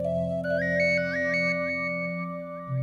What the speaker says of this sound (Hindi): माँ का ही फोन होगा।